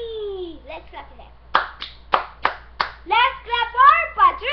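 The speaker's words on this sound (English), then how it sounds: "Let's clap for them." Children's group clapping after an elimination-contest result, a handful of sharp separate claps in a loose rhythm, mixed with kids' voices talking and calling out close by.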